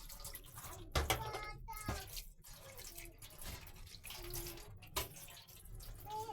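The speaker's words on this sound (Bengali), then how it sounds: "এগুলোকে আমি পাত্রে ধুয়ে নিচ্ছি।" Eggs being washed in a pot under running water from a tap in a home kitchen, a steady wash of flowing water with brief splashes and clinks, fairly close, with a voice faintly in the background.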